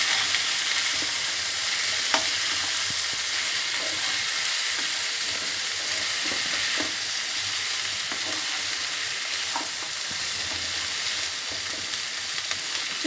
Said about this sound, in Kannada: ಚಿಕನ್ ಫ್ರೈ ಮಾಡ್ಕೊಳ್ಳೋಣ.